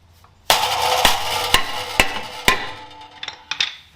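A hammer strikes a stuck brake rotor on an Evo five times in an even rhythm, each blow loud, sharp and ringing, followed by lighter metallic knocks and clatter.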